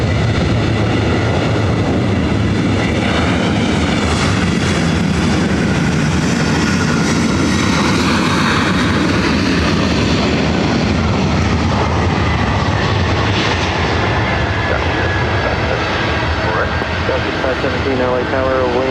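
A jet airliner roars at LAX, a loud, continuous, thunderous engine rumble with shifting whine that stays close and constant for the whole stretch, with voices speaking over it.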